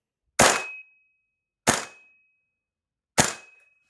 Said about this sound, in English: this is the replica firing with the stock buffer weight